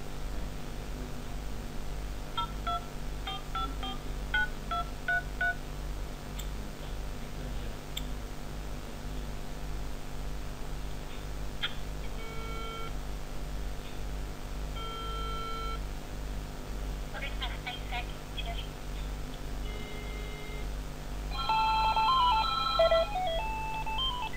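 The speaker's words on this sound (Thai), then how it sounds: "หลังจากที่ มีการโทรเข้าจากหมายเลขเดิม" Telephone dialing tones and beeps from a call-center phone system during an incoming call, with scattered short tonal blips and clusters over a steady low electronic hum, growing denser toward the end.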